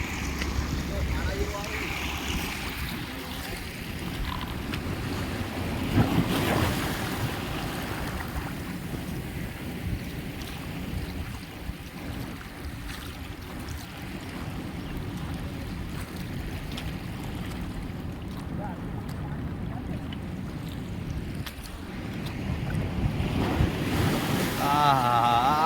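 Sea waves and strong wind on Diu beach in Gujarat, a continuous broadband roar of surf and gusting wind buffeting the microphone, steady throughout with swells rising and falling.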